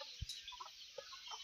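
Chickens on a farm cluck softly in a few brief, scattered calls with a faint thump, heard at low volume with no voices.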